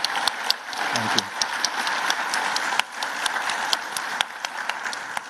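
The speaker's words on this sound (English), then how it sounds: "I'd like to have a round of applause for one of the greatest CEOs in the world, this man." Audience at a global business forum applauding, steady dense clapping with sharp individual claps on top, sustained for several seconds.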